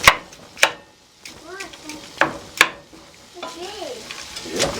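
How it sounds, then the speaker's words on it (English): Sweet potato, meat and onion cooking in a skillet on low heat, a few spoon scrapes and taps over a quiet sizzle, with faint non-speech vocal sounds in between. "I have my skillet turned down real low because I want this sweet potato to pretty much cook with the meat and onion"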